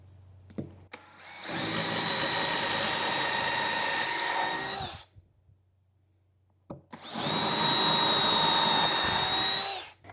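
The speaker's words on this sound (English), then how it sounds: "I'm going to start off by using a drill bit that is a little bit smaller" A power drill bores hardware holes into a wooden dresser during refinishing, two long whining bursts of motor and bit cutting separated by a short pause, loud and close with no talking.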